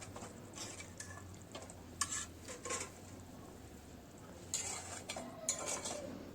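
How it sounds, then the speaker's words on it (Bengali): Fried potatoes and white eggplant go into a pan of rohu fish curry. Faint clinks and scrapes of a spoon against the pan come in soft, irregular bursts, with a light low hum underneath. "এবারে ভেজে রাখা আলুটা দেব। আলু বেগুনগুলো দিয়ে দিচ্ছি।"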